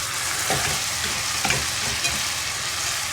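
Steak frying with a knob of butter and fresh parsley in a pan, a loud steady sizzle with faint stirring clatter, no talking.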